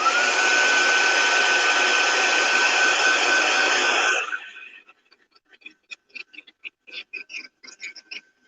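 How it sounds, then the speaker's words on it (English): A hair dryer blows on craft paint for a lemon-themed tiered tray, a loud steady whir for about four seconds before cutting off, followed by faint scattered clicks and taps. "Just hit it with a hair dryer and it'll be dry enough in a minute or two."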